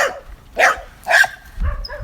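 A dog barks three times in an even rhythm, close and fairly loud, with short pauses between each bark.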